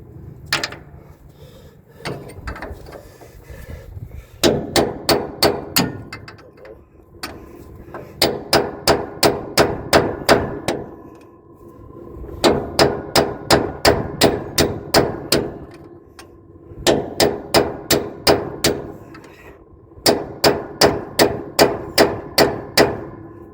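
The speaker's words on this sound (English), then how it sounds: "And then you can just smack the bolt out." Hammer strikes on a bolt being knocked out of a haybine part, loud sharp metallic blows in rapid repeated runs of about eight to ten hits, with short pauses between the runs.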